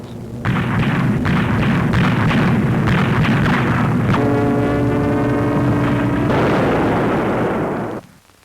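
Anti-aircraft guns manned by Home Guard, ATS and American crews during wartime firing produce a dense, loud, continuous roar of blasts, with a droning tonal hum rising midway before the barrage cuts off abruptly.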